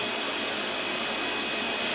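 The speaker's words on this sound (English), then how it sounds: "You can actually vacuum hard floor on this mode." ProTeam 1500XP vacuum cleaner running in suction-only mode, a steady, loud, unbroken motor whine and airflow hiss that holds level throughout with no talk over it.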